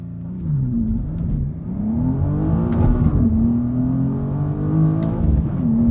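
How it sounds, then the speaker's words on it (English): A 2023 BMW M2 with a six-speed manual sits on launch control with the clutch held and throttle pinned, its engine droning loud and close as revs rise and waver, then surging under acceleration, with no talking. "So holding in the clutch, pinning the throttle, it'll tell me launch control is ready."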